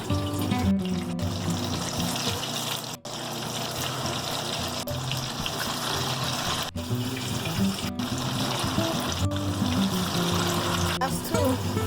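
Tofu deep-fries in hot oil, making a loud, dense bubbling hiss that runs the whole time, broken now and then by short dips, with faint tonal sounds in the background.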